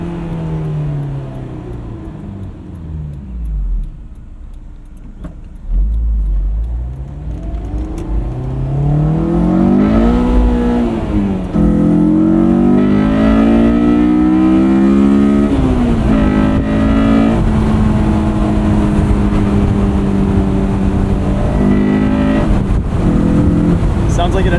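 A 2001 Honda S2000 engine revs hard into VTEC, its loud rising and falling howl sweeping up repeatedly and holding high, close by for most of the stretch.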